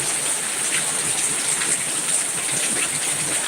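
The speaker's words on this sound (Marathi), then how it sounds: "बघा पाऊस कसा जोरात आहे" Heavy monsoon rain pours down in Mumbai, a dense, steady hiss of water falling on surfaces, loud and continuous from start to finish with no voices over it.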